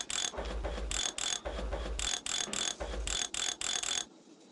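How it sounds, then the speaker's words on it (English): Socket wrench ratcheting in the Tonka Workshop video game as wheel bolts are tightened: three bursts of rapid ratchet clicks, each set closing with a heavier clunk, loud and close, before it cuts off abruptly. "Use the socket wrench to bolt the wheels on and connect the handle to the front wheels."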